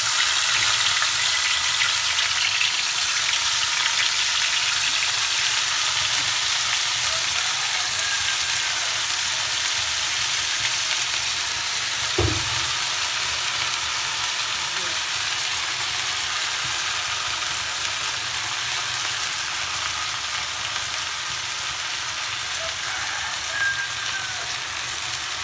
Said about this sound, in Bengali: আমি ফ্রাই প্যানের তেলগুলোর মধ্যে মাছটা ছেড়ে সুন্দর করে ভেজে নেব।